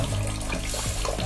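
Water flows from the tap of a 1-litre instant portable electric water geyser fitted with an MCB, a steady close rushing stream with faint gurgles, no voices.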